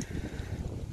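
Wind buffets a microphone in low, uneven gusts, a brief rumbling rush with no other clear sounds.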